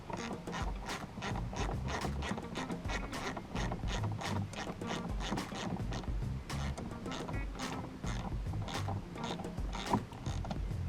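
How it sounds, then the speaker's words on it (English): Bolts being tightened on a kayak anchor bracket for a Power-Pole Micro anchor on a Jackson Kayak Kilroy, with a steady run of close ratcheting clicks and metallic turning sounds continuing throughout. "So now we're going to tighten those in place."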